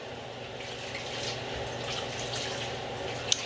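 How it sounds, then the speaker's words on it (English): Rice being washed under a running kitchen tap, a steady quiet wash of water with soft splashing and a faint click near the end. "First washing the rice."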